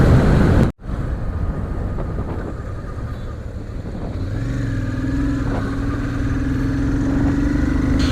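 A Royal Enfield Shotgun 650 motorcycle engine hums steadily at nearly 100 km/h under heavy wind rush, the engine tone rising gradually as the ride continues.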